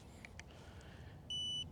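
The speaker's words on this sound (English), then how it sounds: "You do get the audible beep, and it does show up on the display." ECOROAD ET6 electric scooter turn signal, a few short quiet chirps followed by a louder, steady electronic beep near the end, close by and with no voices.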